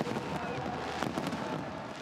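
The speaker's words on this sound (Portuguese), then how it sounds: "Nos céus da capital do Catar, os fogos de artifício iluminavam o encerramento da competição no país árabe." Fireworks burst over Doha at the closing of the World Cup, a rumbling, crackling wash with a sharper pop near the middle, heard at a distance over a busy crowd-like background.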